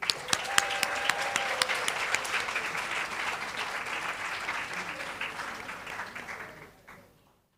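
An audience at a national awards ceremony applauds a student award recipient, a few sharp claps opening into sustained even clapping that slowly thins and fades out to silence.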